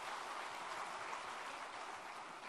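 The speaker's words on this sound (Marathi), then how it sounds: "टाळ्या वाजून आपण त्यांचं या ठिकाणी स्वागत करूया" Audience clapping to welcome guests at a state teachers' award ceremony, a steady, even wash of many hands heard from a distance and fairly faint.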